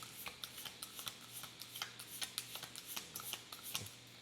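A deck of tarot cards shuffled by hand at close range: quiet, repeated riffling and soft slaps in quick bursts, with a low steady hum beneath.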